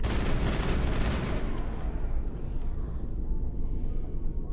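Gunfire from the sci-fi shooter game Mass Effect, a dense loud burst of weapon fire in the first second and a half that fades into a continuous low rumbling battle din.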